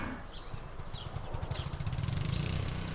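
Distant engine drone of lawn mowers running across an allotment, a steady low rumble with fluctuating throttle, faint rhythmic chugging and scattered light outdoor noises over the full stretch, with no talking.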